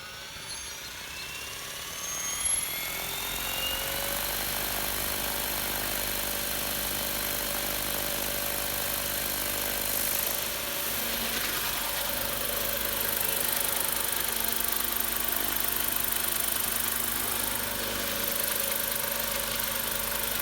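An ALZRC Devil 505 RC helicopter with slightly loose rotor blades spools up, then holds a steady, continuous whine with a buzzing undertone. It carries on alone, with no talking.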